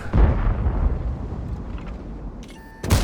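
A tank cannon fires in World of Tanks with a loud, booming blast near the start, which rolls out into a decaying rumble. A short electronic beep follows near the end, then a second burst.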